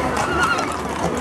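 Horse whinnying amid a busy street parade of some 800 horses in Arandas, a loud close neigh over crowd chatter and hoof noise.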